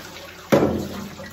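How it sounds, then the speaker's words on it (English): Harvested elderberries being rinsed in a container of water give a single sudden splash and slosh, followed by a short stretch of trickling water that gradually settles. "This is the second rinse."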